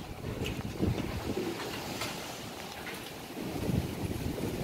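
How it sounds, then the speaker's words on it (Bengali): Strong wind sweeps across the Kaukhali river during Cyclone Remal's storm surge, roaring and buffeting the microphone in loud, uneven gusts, with rushing water beneath and no talking. "প্রচুর বাতাস বয়ে যাচ্ছে নদীতে।"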